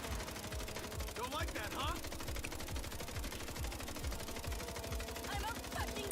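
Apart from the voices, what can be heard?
MP7 gunfire in video game MindsEye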